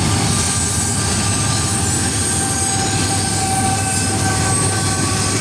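CSX eastbound freight train with a helper locomotive rolls steadily past at close range, loud and continuous, with a broad rumble, wheel squeal, and faint clatter.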